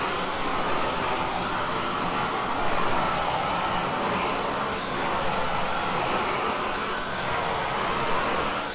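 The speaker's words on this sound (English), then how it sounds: "Torch and heat the ground about an inch in." A GrillBlazer GrillGun propane torch heating garden bed soil outdoors, producing a steady, loud, continuous roaring hiss that holds level throughout with no breaks or talk.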